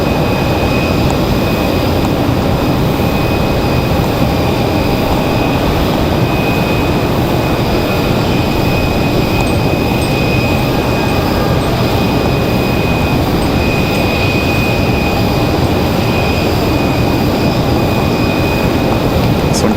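A United Boeing 737 MAX 9 arriving from Denver at Raleigh-Durham, heard as a loud, constant jet roar with steady high engine whine tones running throughout, no talk.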